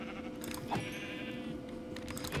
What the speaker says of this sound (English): Oh, sheepies.